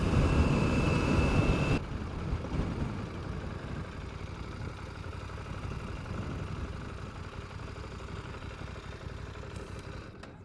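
A 2024 KTM 790 Adventure motorcycle engine running steadily while riding on gravel, a low continuous drone with wind rush, louder in the first two seconds and then holding level until it fades at the end.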